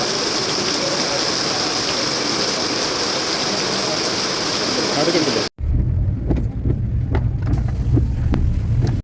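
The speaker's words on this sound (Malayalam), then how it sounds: "നല്ല മഴ പെയ്യുന്നുണ്ടായിരുന്നു നല്ല മഴ പെട്ടെന്നായിരുന്നു" Heavy rain roars steadily, loud and close, then shifts abruptly to a deeper rumbling downpour with scattered sharp taps.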